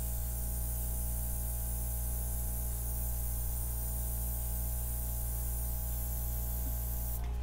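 An airbrush sprays paint steadily over a flip-and-drag acrylic pour, a continuous loud hiss with a low compressor hum underneath, running alone for the whole stretch and cutting off just before the end.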